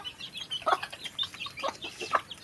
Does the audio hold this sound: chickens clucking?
yes